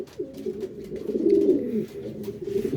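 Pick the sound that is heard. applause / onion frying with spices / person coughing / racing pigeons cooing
racing pigeons cooing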